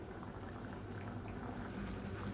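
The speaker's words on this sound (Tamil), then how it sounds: "இப்போ மீடியமான ஃப்ளேமில் கொதிக்கட்டும்." Egg curry (muttai kulambu) bubbling in a pot on a medium flame, a steady low simmer of dense popping bubbles that holds at an even level throughout, with no talk.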